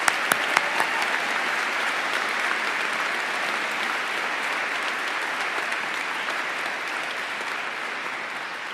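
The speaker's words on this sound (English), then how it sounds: "let us applaud their outstanding accomplishments" At a SUNY ESF December commencement ceremony, the audience gives doctoral candidates sustained, dense applause that stays even and full throughout, with a few sharper claps at the start.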